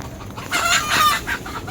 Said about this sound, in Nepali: कुखुरा फेरि सब यहाँ बास बस्छ फेरि